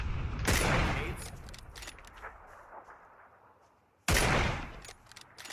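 Gunfire in PUBG, where rounds strike a player's pan armor: two loud sharp bursts with rattling tails, close and punchy, and faint noise between them.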